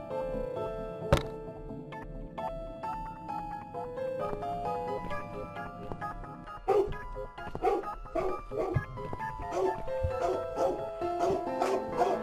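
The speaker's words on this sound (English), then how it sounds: "Your dog is making horrible noise." In the video game The Cat Lady, a dog barks and yelps in short repeated bursts over a quiet ambient background, with the barks growing busier and more frequent toward the end.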